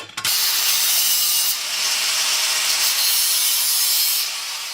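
Cutting tool working a steel repair panel for the wheel arch of a Golf mk2, a loud, close, continuous harsh rasping hiss that holds steady for several seconds without talk.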